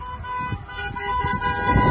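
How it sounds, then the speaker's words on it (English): A car horn toots steadily through traffic noise, held for a couple of seconds, fairly close. "they're beeping their horn"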